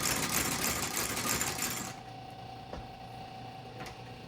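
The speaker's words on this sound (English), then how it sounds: "allow the stitcher to stitch better. I got my stitch length to where it's going to be a very narrow stitch" A boot stitching machine sews narrow stitches on dress boots, a dense rapid mechanical chatter close by for about two seconds, then it stops, leaving a faint hum and a couple of light clicks.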